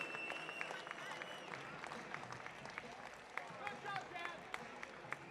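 Audience applause at a military powerlifting competition, the Department of Defense Warrior Games, a steady mid-level clapping wash with scattered sharper claps and voices mixed in, continuing under the arena atmosphere.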